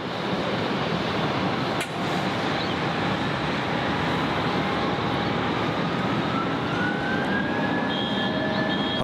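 A Jetstar Airbus A320 takes off from runway 14 at Gold Coast Airport, a loud, continuous roar of jet engines with a rising whine building steadily throughout, heard from nearby.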